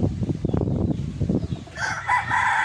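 A large derby-size gamefowl rooster crows loudly near the end, following a stretch of low rustling and background noise.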